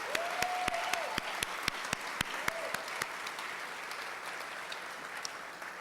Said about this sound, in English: Let's give Theater 360 another round of applause.